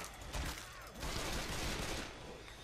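Gunfire in the video game Left 4 Dead 2 sounds as a dense, sustained burst of rapid shots, fairly quiet and muffled within the game mix.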